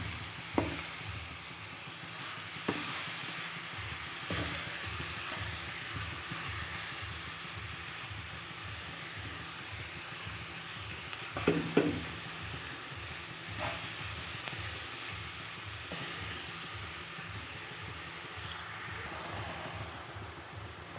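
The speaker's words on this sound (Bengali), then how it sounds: "পরিমাণ মতো লবণ আর হলুদ দিয়ে দিয়েছি, দিয়ে ভালো করে নেড়ে চেড়ে নেব মিশিয়ে" Cabbage frying with salt and turmeric is stirred in a pan, giving a soft continuous sizzle with steady scraping strokes and occasional sharper utensil clacks, close and fairly quiet.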